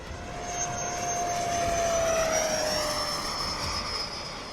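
Freewing F-4 Phantom RC jet flying overhead in crosswind conditions, a steady high whine with a shifting pitch as it passes, sustained and moderately near against outdoor wind.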